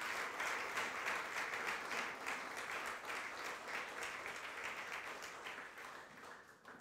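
A church congregation breaks into sustained applause to acclaim the Lord, a dense, even wash of many hands clapping that carries on throughout and fades only slightly toward the end.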